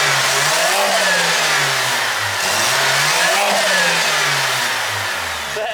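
A turbocharged BMW M43 four-cylinder engine in a 316i/318i car pulls away and revs up through the gears, a loud, close, continuous engine drone rising and falling in pitch with no talking.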